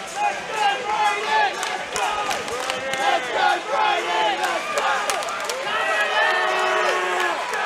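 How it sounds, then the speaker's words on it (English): Crowd cheering and shouting at a Muay Thai championship fight, a dense roar of many voices with rising yells and whoops throughout, loud and close. "the crowd's really starting to get involved with this one"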